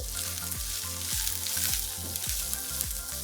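Cashew nut pieces sizzle steadily in a hot frying pan for kung pao paneer, a dense close crackle with rhythmic clicks of a spatula stirring through, no voices.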